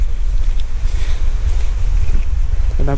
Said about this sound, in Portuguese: Dá pra ver o barulho de água